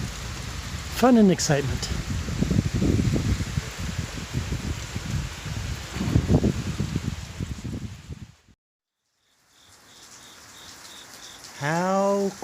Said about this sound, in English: Turned out to be rain all night, and now it's scheduled to be rainy all day today.